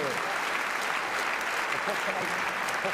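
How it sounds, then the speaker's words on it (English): Studio audience at a parish-themed comedy quiz show applauds a contestant named Paddy, a dense, steady burst of clapping sustained evenly throughout with a voice faintly underneath. "a round of applause for Paddy"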